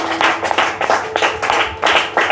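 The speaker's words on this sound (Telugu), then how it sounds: "చప్పట్లు కొట్టండి" An audience at a Telugu talk claps its hands in bursts of applause, close and lively, rising and falling in a rough rhythm with no other sound.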